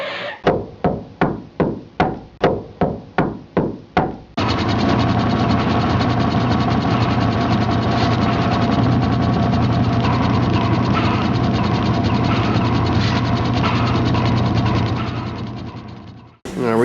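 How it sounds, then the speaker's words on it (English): A pneumatic coil nailer on a regular air hose drives 1.5 inch coil nails during kitchen tile floor prep. A close, rapid run of about nine sharp, evenly spaced bangs is followed by a loud, sustained mechanical roar. "Tom, what size nails are we using in the coil nailers?"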